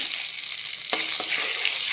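Mustard seeds, cumin and split dal tempering in hot oil, a steady bright sizzle throughout, with a couple of sharper pops or spoon scrapes near the middle.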